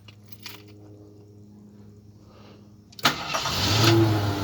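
A 1975 AMC Matador Brougham station wagon engine cranking and catching with a sudden burst, then settling into a loud, rough idle as it revs up slightly. A low steady hum comes before it.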